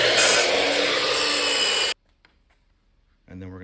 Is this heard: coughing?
no